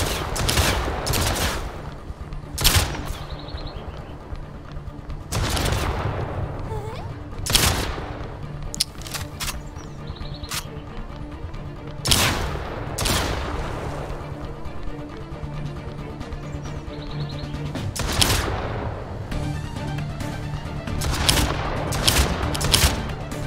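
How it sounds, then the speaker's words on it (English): Cannons launching cannonballs in the video game Hentai VS Evil, a series of sharp, loud booming shots spaced a few seconds apart, each with a short rumbling tail over a low steady background. "They're shooting cannonballs out of this thing,"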